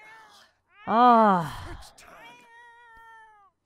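A cat in The Sims 4 gives one loud drawn-out meow, followed by a softer trailing mewl, and a voice briefly exclaims over it.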